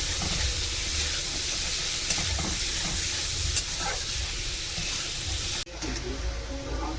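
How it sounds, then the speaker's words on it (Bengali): Dhenki greens cooked with spices fry in a pan with a loud, steady sizzle. Water is poured in, and the sound drops sharply into a softer bubbling hiss. Faint stirring clinks can be heard along the way, and nobody speaks. "একটু জল দেব।"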